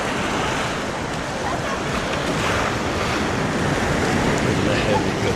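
Sea waves wash steadily onto a beach on the Lebanese coast, a continuous loud surf roar mixed with heavy wind buffeting the microphone.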